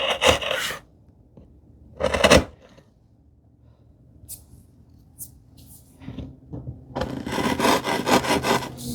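Hand tools trim the walls of a wooden dado for a speaker table enclosure, short bursts of rasping and scraping separated by quiet gaps, ending in a longer run of close, steady strokes.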